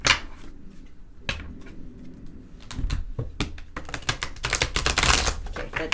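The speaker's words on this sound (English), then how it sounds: "Let me see if I can shuffle these just on one go." Large, oversized deck of oracle cards being shuffled, a run of crisp, irregular card riffles and slaps that build in density toward the end, close by, with no talking.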